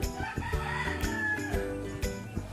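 Native chickens cluck and a rooster crows nearby, several overlapping calls in quick succession with a few sharp clucks over a steady farmyard backdrop.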